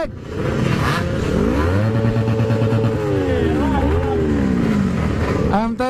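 A Yamaha RX King two-stroke motorcycle revs hard in a steady, continuous run, its engine pitch rising and falling through repeated pulls, loud and close throughout, with voices of riders nearby mixed in.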